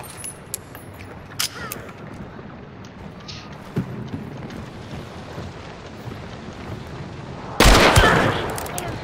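Gunfire in a video game comes as scattered sharp shots over a quiet ambient bed, capped by a louder burst of noise near the end, with no talking.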